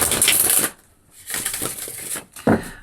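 A deck of tarot cards is shuffled and cut by hand, with a dense riffling burst, a brief pause, more shuffling, and a sharp snap as the deck is cut, close and fairly loud.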